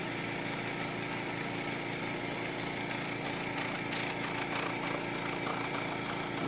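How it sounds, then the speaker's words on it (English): An air compressor's motor runs with a steady, even whine and hum while a computer is being blown clean of dust, constant and moderately quiet, with no talking. "my mic system is probably focusing more on the motor of the air compressor than it is actually hearing the air"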